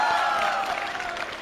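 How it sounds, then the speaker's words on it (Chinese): A studio audience at a televised dating show applauds, a dense wash of clapping and crowd noise that is loud and close at first and then fades slightly over a brief moment. "掌声欢迎。"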